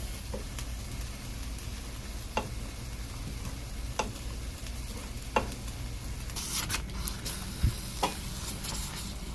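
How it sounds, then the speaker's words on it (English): Scrambled eggs fry in a pan for cabbage shrimp fried rice, with a steady soft sizzle broken by scattered sharp clicks and taps of stirring, close and without talk. "So we are making scrambled eggs for the fried rice."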